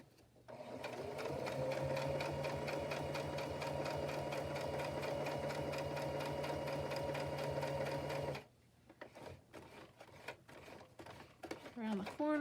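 A sewing machine runs a steady straight stitch for about eight seconds, loud and close with a continuous motor hum. It then stops and a voice speaks over faint handling noises.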